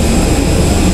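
An airplane roars loudly and steadily with a dense low engine rumble, filling the whole short moment near Hong Kong.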